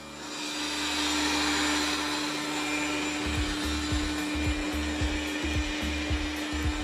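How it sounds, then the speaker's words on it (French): A Dreame L10 Pro robot vacuum hums steadily on carpet, its motor whine rising as suction boosts, with a loud continuous drone and a series of rhythmic low thumps in the later half. "dès lors qu'il a détecté le tapis, à la seconde où il l'a senti, et s'est mis à accélérer, à amplifier l'aspiration"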